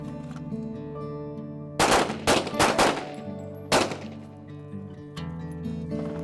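Pistol shots at an outdoor shooting range, a handful of sharp loud cracks in a quick irregular cluster followed by one more shot, over a low steady background hum.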